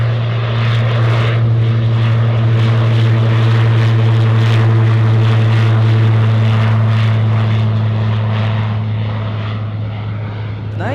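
A propeller seaplane flies near Anchorage's Ted Stevens International Airport, its engine a loud, steady drone with a strong low hum that holds throughout and eases slightly at the end.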